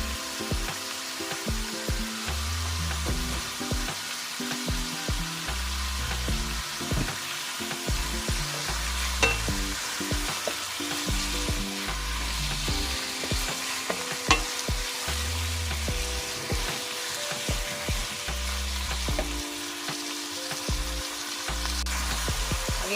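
Mixed vegetables and pork stir-fried in a hot pan, a steady loud sizzle with rhythmic scraping and tossing strokes throughout, no voices.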